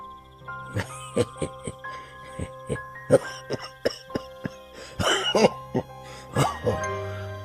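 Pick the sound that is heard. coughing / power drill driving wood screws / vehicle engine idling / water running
coughing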